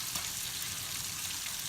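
Biscuits and gravy sizzle in a pan turned up to high heat, giving a steady, dense crackling hiss close by with no pauses.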